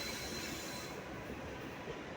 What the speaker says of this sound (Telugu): ముందుకు కాజీపేట రైల్వే జంక్షన్లోకి ఒక సూపర్ ఫాస్ట్ ట్రైన్ వస్తుంది